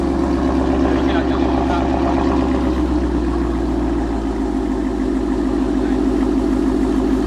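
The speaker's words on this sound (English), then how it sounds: "It sounds like it's idling smoother." A 2015 Ford Mustang GT engine idles steadily at close range after a spark plug change, a continuous low rumble with an even, smooth rhythm throughout.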